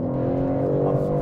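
BMW M3 Competition accelerating hard on a track, heard from onboard: a steady, loud engine drone with layered harmonics under a faint voice.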